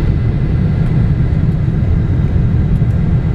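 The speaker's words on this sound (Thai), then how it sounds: "นี่คือเครื่องบินที่ปูโน่จะนั่ง" Airplane at an airport in Taiwan: a steady, loud low rumble of engines, continuous and unbroken throughout, with no voices over it.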